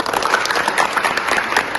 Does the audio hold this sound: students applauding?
yes